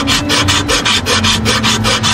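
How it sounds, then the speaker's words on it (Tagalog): Rust is scraped off a Suzuki Scrum multicab engine part in quick, even back-and-forth strokes, a close, harsh rasping repeated about ten times without any talking. "Ayan, tanggalin natin yung kalawang"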